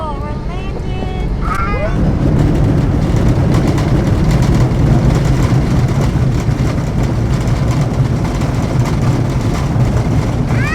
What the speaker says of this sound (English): Whoa, we're landing.